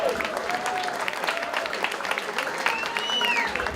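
Crowd applause and cheering at a sports team's anniversary dinner, a steady wash of clapping filling the room, with a few whistles and shouts rising above it near the end.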